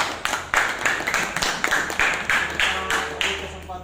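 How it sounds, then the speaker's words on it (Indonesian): Students in a classroom clap in distinct, rhythmic bursts, each sharp group of claps landing roughly every half second, close and fairly loud, with a few voices faintly underneath. "Tepuk tangan dulu"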